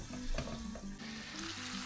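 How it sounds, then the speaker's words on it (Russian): Chicken pieces with onion fry in a pan, giving a steady, close crackling sizzle with small pops throughout and no talking. "курица потихонечку жарится"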